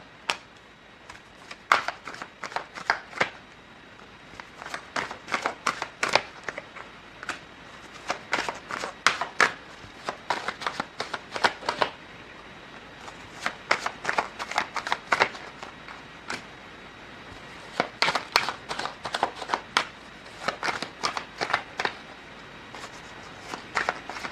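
Tarot cards are shuffled and handled in repeated quick bursts of crisp riffling and flicking, close and dry, with short pauses between runs and no voice.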